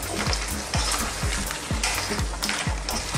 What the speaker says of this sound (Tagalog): Haluin lang natin siya hanggang mag-combine lahat ng sauce at ng seafood sa ating spaghetti pasta